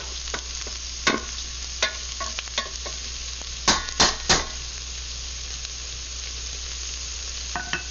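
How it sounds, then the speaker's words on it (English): Vegetable beef stew ingredients stirred in a pot over a constant gentle sizzle, with sharp spoon knocks and scrapes against the pot scattered irregularly, a cluster in the middle, close and clear. "We're going to stir it around"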